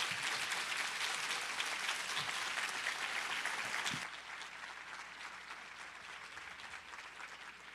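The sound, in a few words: audience applause at seniors recognition ceremony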